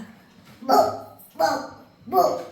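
Three short, voiced barks spaced about a second apart, a child imitating a dog, close and fairly loud.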